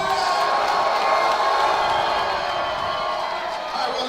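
A boxing-match crowd cheers and applauds loudly and without a break, a dense roar of clapping and shouts filling the arena with no single voice standing out.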